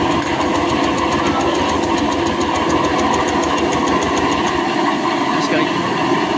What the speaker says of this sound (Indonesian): Jadi mesinnya nggak mau hidup, cuman starternya itu nyala.